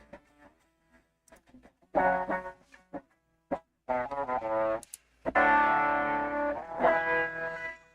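Electric guitar through a TubeScreamer 808 overdrive pedal, played in short separate chord stabs and then longer ringing strummed chords with gritty, driven sustain, loud and close with short gaps of silence between phrases.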